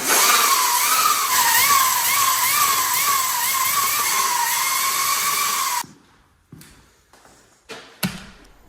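A homebuilt electric mini moto given its first throttle whines loudly and steadily for several seconds with a wavering high tone, then cuts off, leaving a few faint clicks and knocks.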